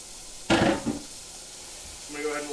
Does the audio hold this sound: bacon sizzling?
yes